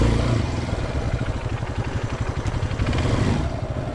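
Motorcycle engine held under throttle while riding downhill, a loud continuous mid-pitched drone with a rapid pulsing clatter, close and steady throughout.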